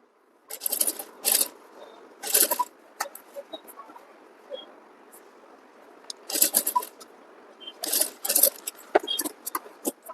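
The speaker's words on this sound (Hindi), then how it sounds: "तो गाइस काम की मजबूती के लिए यहाँ पर हम दूसरी सिलाई लगाएंगे।" Sewing machine running a second reinforcing seam on a kurti near a back-side invisible zip, heard as several short whirring stitching bursts with quiet pauses between them, fairly close by.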